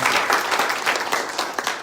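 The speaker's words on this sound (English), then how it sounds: "please give him a nice round of applause for this" An audience at a Hindu satsang gathering gives a round of applause, dense and even clapping filling the room throughout.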